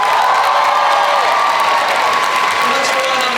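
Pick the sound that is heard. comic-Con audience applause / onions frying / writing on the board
comic-Con audience applause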